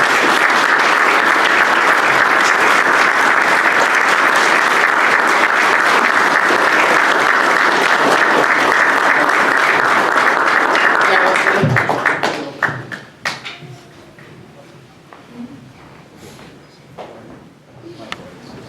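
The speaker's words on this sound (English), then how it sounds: "Let's have a round of applause." Audience at a hall of fame induction ceremony gives a long, loud, steady round of applause that fills the room for about twelve seconds, then breaks off into a few scattered claps and quiet room noise.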